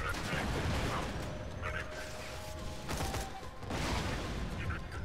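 A machine gun firing grenades in the video game Borderlands 2 produces dense, rattling bursts of shots with mechanical clatter, loud and close, and people talk over the gunfire.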